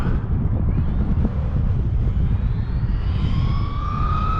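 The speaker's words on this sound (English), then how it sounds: "Full throttle. Ooh, she's shaky at full throttle." A stock Traxxas XRT RC truck running at full throttle with speed gears, its motor whine rising and steady against heavy outdoor wind rumble, with no speech.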